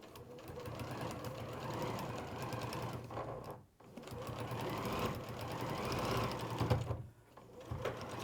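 A domestic sewing machine stitching round a corner and over a seam on a supercute pony toy: a steady, close mechanical whir with rapid needle clatter, briefly stopping twice, then starting again.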